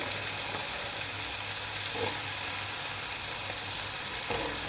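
Spice masala for loitta shutki (dried Bombay duck) frying in oil with a splash of water, a steady soft sizzle with occasional faint stirring scrapes, no voices.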